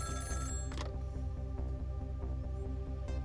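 A telephone rings in the video game Ghost Trick with a steady electronic ring repeating in quick regular pulses, loud and close, with no voices over it.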